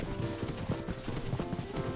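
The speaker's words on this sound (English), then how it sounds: "this is my completely not fast horse" Hooves of a slow horse clip-clop in the game New Londinium 1910, an uneven run of soft close knocks over a faint background bed.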